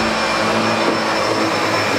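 A SEBO Felix upright vacuum cleaner runs at a constant close, loud whine, a dense steady roar with a fixed high tone and low motor hum that never varies.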